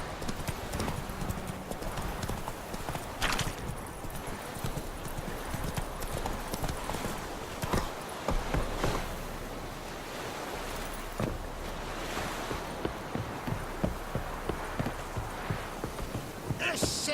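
Horse hooves clip-clop at a steady trot in the video game The Witcher 3, a continuous rhythmic patter of hoofbeats over an outdoor ambience, moderately close, with occasional other noises mixed in.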